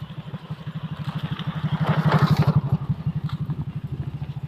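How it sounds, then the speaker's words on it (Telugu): A motorcycle engine in a village setting thuds with a steady, rapid pulse that swells louder near the middle as it comes close alongside, then eases slightly as it moves on. "బైక్ వస్తుంది పక్కన."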